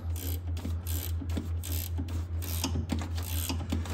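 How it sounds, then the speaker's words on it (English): Ratcheting wrench with a 10 millimeter socket tightening a loose steering bolt under a Club Car Precedent golf cart, making a steady close run of rhythmic clicks over a constant low hum, with no talking. "We're gonna use a ratcheting wrench here."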